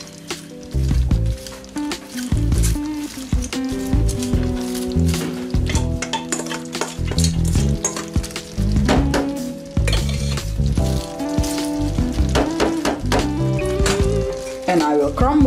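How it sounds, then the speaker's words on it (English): Chopped cabbage hits a hot pan for stewed cabbage, with bursts of sizzling frying and clattering stirring over a busy, continuous background. "Now it's time to add the cabbage."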